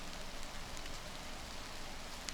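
Steady rain falls in a dense, even hiss with no breaks, continuous at a moderate level throughout and with no voices.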